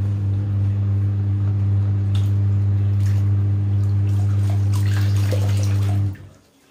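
Clear water runs steadily from a tap or basin during rinsing while testing a Philips Azur Elite GC5037 steam iron, over a strong low hum. The flow keeps going evenly, then cuts off near the end.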